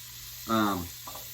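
Elk round roast sizzling in a hot pan as it caramelizes, a short close burst of frying hiss that fades back to a low background hum.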